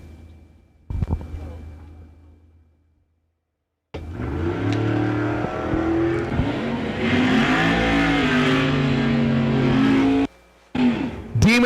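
A Dodge Demon and a big-tire S10 truck launch side by side at a drag strip, the engines roaring loud and close before the sound cuts off abruptly, with a brief burst of engine noise following.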